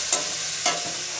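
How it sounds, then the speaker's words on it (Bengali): Spice paste of ginger, cumin, turmeric and salt sautés in a pan, a continuous close sizzle with two brief scraping stir strokes. "মশলাটাকে আমি ভালো করে কষিয়ে নেব।"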